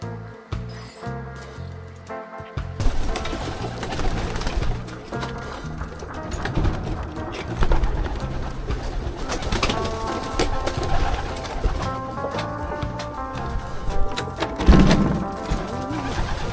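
Racing pigeons being readied for their first race of the season coo in a busy loft, the soft cooing mixed with wing flutters and shuffling across a steady bed of activity, with one louder burst near the end.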